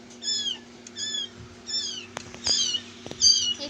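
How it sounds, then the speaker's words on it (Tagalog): A cat meows loudly about five times in a row in a Roblox game, with short gaps between calls, along with a few sharp knocks and clicks nearby. "Maingay dito yung pusa nila."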